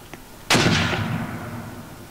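A frag grenade explodes after being thrown over a fence: one sharp, loud blast with a booming, reverberant tail that fades over about a second and a half.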